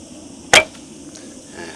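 A bow is shot with the string released from a Fu Hao shallow hook thumb ring: one sharp, brief snap of string and arrow, close and fairly loud against quiet surroundings.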